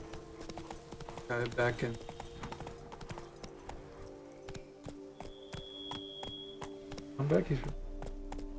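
Horse hooves clip-clopping at a steady gait in The Witcher 3, heard under a man's speech, with an occasional brief neigh-like sound.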